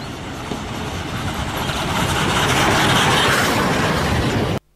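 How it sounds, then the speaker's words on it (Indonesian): Steady rumbling rattle of a small Thomas toy train running continuously, close and fairly loud, then cutting off abruptly. "Kereta Thomas."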